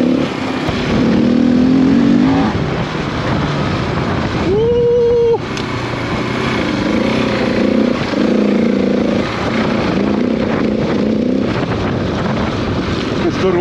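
A Husqvarna 701 motorcycle engine drones and revs steadily during a solo ride, with the pitch rising and falling through shifts. Heavy wind rush buffets the microphone throughout.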